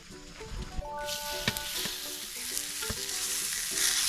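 Pork belly sizzles on a cast-iron cauldron lid grill in an outdoor yard, a steady crackling fry with intermittent sharp pops and faint clinks of a utensil, no talking over it.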